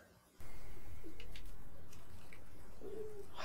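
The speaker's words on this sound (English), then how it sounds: "I thought they were gonna hurt the pigeons." Pigeons cooing in a New York subway station in a movie scene, a few soft low coos over a steady rumbling background, with a brief chirpy call near the end.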